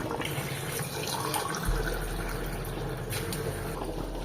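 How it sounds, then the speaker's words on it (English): Water is poured into a pot of nsala soup on the stove, a steady stream starting partway through and running continuously, soft and close. "So I'll be adding a little bit of water to it"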